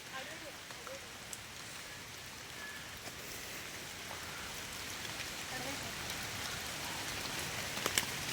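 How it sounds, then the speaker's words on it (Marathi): A steady, broadband rush of a forest waterfall fills the whole stretch, constant and fairly loud, with a few faint drip-like ticks on top. "आवाज तर येतोय धबधब्याचा इथंच आहे"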